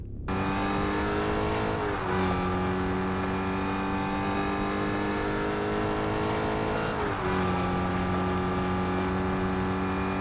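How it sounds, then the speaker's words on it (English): A Fortnite muscle car with a loud supercharger drones at a constant high rev, its engine tone dipping briefly at two gear changes; loud, close and continuous, with no voices. "The engine sound is pretty standard fare muscle car, but the loud supercharger really steals the show"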